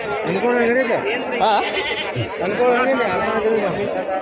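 Goats at the Pebbair livestock market bleat repeatedly in wavering, overlapping calls, close and fairly loud, mixed with the chatter of people talking nearby.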